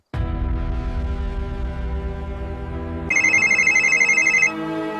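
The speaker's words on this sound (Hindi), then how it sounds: "अब एसपी साहब का फोन आ रहा है, देखो।" A mobile phone rings with an incoming call, a loud, steady electronic ringtone that switches to a brighter repeating melody partway through before cutting off.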